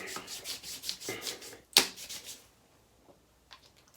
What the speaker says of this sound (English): patchouli oil. Get that nice and rubbed in.